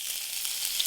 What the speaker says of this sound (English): Ooh, probably overcooked it a little. Sizzling.